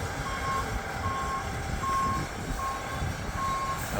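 Montreal fire ladder truck 457 backing into its station during a snowstorm, its reversing alarm sounding five evenly spaced beeps over a steady engine rumble and windy street noise.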